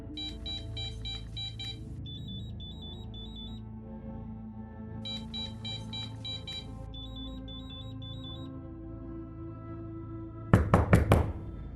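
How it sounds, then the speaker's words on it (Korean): Knocks on a front door strike in a quick burst of four or five loud hits near the end, after a long stretch of electronic beeping alarm tones repeating in an even pattern. "다행히 얼마 지나지 않아 현관문 두드리는 소리가 들려왔죠"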